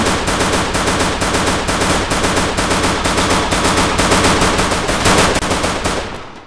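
Rapid automatic gunfire in the Garena Free Fire video game rattles out as a loud, continuous burst of shots, near and dense, ending abruptly.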